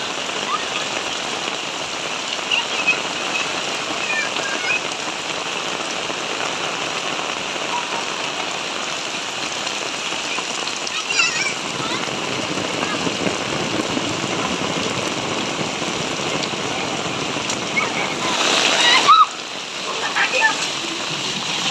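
Steady rain falls on surfaces in a village, a continuous dense patter throughout, with voices faintly heard at times.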